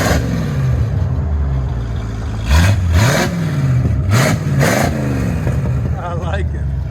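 1952 Chevy Styline V8 with headers and glass packs, a deep burbling idle close by, punctuated by several quick throttle blips that rise and fall, with a voice talking briefly near the end.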